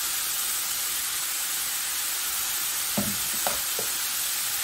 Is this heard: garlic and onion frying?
yes